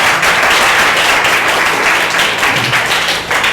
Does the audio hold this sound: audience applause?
yes